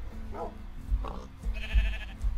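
Sheep in Minecraft bleat in short nasal calls, roughly three of them spaced out over a couple of seconds, heard fairly close over quiet game background noise.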